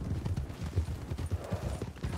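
Horse hooves clop steadily at a riding pace in Red Dead Redemption, a quick rhythmic run of soft, muffled hoofbeats heard fairly faint and alone.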